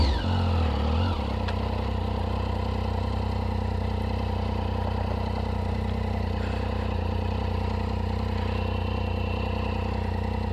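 A motorcycle riding off-road on a dirt track past a closed road, its engine droning steadily and close throughout after a brief rev at the start.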